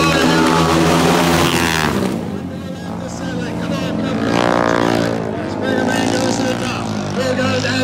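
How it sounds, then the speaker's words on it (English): Harley-Davidson XR 750 flat track racing motorcycle at the Hastings Half Mile, a loud, raw engine roar that rises and falls as it accelerates, under an excited announcer talking over a public address. "Springer man letting that XR 750 stretch its legs into three and four."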